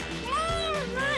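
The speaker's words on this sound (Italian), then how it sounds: "Oh no, un gattino chiede aiuto." A small cartoon kitten mews for help in a short, high, wavering cry, with busy animated music and effects playing underneath.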